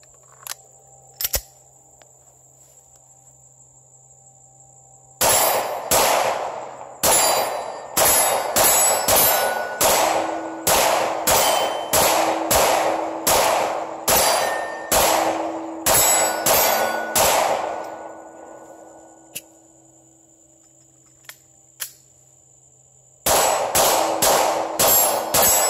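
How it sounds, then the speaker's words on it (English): Steyr M9A1 Gen4 pistol firing in quick volleys of sharp, loud reports, about fifteen shots in a fast string with ringing tails, then a pause with a couple of faint clicks before another burst begins. "I'm going to shoot some more."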